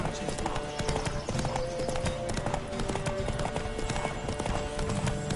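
A horse gallops in The Witcher 3 video game, hooves drumming in a rapid, steady clip-clop rhythm throughout at moderate volume, with a faint voice mixed underneath.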